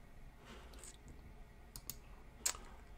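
A few quiet, crisp computer mouse clicks come one by one during email work in Outlook, spaced irregularly over a faint background hush.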